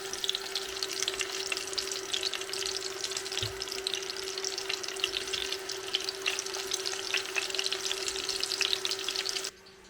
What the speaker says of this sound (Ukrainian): І поки відбивні смажаться